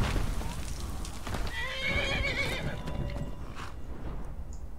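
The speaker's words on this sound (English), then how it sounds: "Don't kill my horse." A horse in the video game Skyrim gives a loud, clear whinny over a continuous stream of clip-clopping hooves, with no talk over it.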